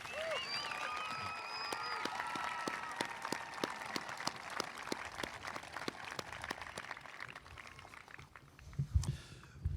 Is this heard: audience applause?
yes